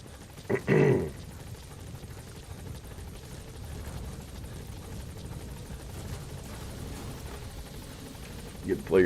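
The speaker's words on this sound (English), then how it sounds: "Support helicopter has arrived." A support helicopter arrives in Metal Gear Solid V, a steady rotor drone running throughout with a couple of louder bursts near the start and the end.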